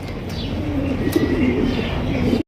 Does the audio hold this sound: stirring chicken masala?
no